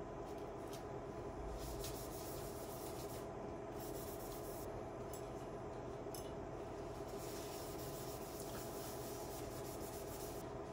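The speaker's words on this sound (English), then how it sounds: "I'm going to clean first the CPU, then the CPU cooler." Towel wiping thermal paste off a server CPU, a large Xeon, dampened with nail polish remover: steady close rubbing and scrubbing strokes running continuously without pause, with no talking.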